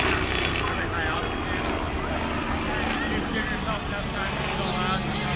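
Helicopter flying an airshow display routine, a continuous loud rotor and engine roar with a public-address announcer talking over it the whole time.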